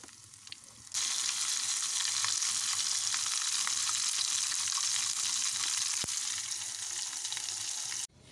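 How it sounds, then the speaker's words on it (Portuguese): Egg-free breaded cheese drops into hot oil and fries with a loud, steady, close sizzle that starts abruptly after a quiet second and runs evenly for about seven seconds before cutting off. "Eu vou vir com o queijo e vou colocar para fritar."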